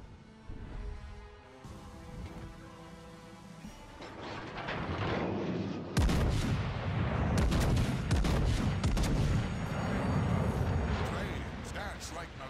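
Warship artillery fire in the World of Warships: Legends naval battle game: rolling booming salvos and sharp blasts build into dense continuous gunfire, with a voice speaking partly over the cannonade.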